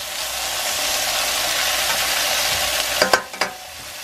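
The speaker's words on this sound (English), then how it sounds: "So go ahead and fry that skin down." Red snapper skin frying in a pan: a steady, loud, broadband sizzle fills the whole stretch, broken near the end by a few sharp clinks or scrapes.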